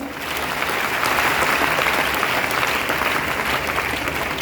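Sustained audience applause at a business seminar, a dense, steady wash of many hands clapping at full volume, filling the whole moment without pause and with no voices over it.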